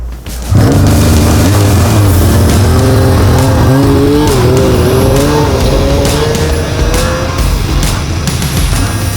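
A snowmobile engine in Alaska snow roars to life and revs hard as the rider gives it gas, a loud, close, sustained whine rising and wavering in pitch throughout.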